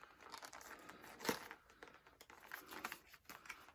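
Plastic wrapping sealed over a sleep mask on the front of a dream journal is pulled and torn open, giving near, continuous crinkling and crackling with one sharper tear in the middle.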